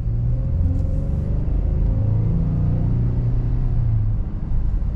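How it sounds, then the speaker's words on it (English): Inside the cab, the naturally aspirated 3.3L V6 of a 2022 Ford F-150 XL 4x4 pickup accelerates smoothly, a continuous deep rumble climbing gradually in pitch, loud and close, with no talking. "Wow, this engine is super smooth."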